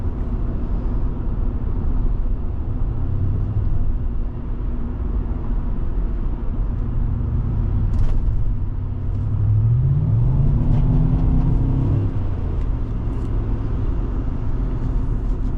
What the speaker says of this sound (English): Now you get the good old misfire.